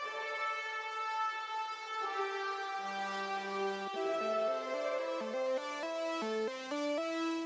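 Synth lead patch built in Reason with a doubled layer, a bright buzzy tone rich in overtones playing a sustained note, then a held low pitch, then a stepping melodic line, loud and alone with no talking.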